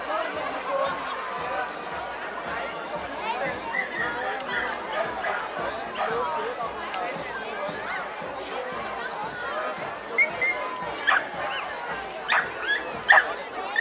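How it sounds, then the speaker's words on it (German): Dog-drawn carts of Sennen dogs in a horse market parade at Gaildorf, with repeated yips, barks and whimpers scattered through a crowd's steady chatter, the barking growing sharper and more frequent toward the end. "Hundegespanne, jawohl."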